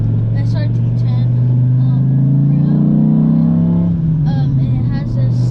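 Dodge Ram SRT-10 pickup with six-speed manual, its loud engine droning steadily with a rising pitch that then drops off, close up, with voices faintly under it.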